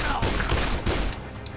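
Bursts of gunfire from the Dead Island video game, several loud broadband volleys crackling in quick succession, close and dense, fading slightly toward the end.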